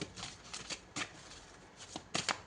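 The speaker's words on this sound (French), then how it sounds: "On va prendre tout d'abord une première carte." Tarot cards are shuffled and drawn close by, with soft papery riffles and several sharp flicks as cards slide out, quiet and without talk.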